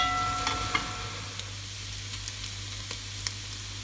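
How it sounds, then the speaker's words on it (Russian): Meat for lagman frying in a pan toward a golden crust, a steady soft sizzle over a low hum with a few small pops and crackles throughout, no talking. "Жарим мясо до золотистой корочки."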